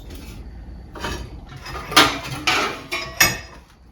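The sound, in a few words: hammering a kink out of metal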